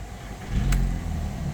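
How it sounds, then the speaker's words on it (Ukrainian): A 2000 VW Golf 1.6 engine catches and settles into a low, steady rumble close by. "Мягко завівся двигун."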